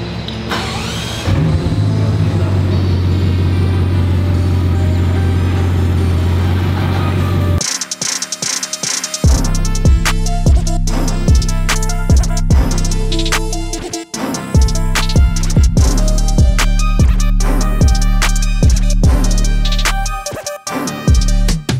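A Bugatti Chiron Pur Sport running as it pulls out, starting with a steady deep engine drone, then breaking into a louder, busier stretch of sharp, rhythmic bursts.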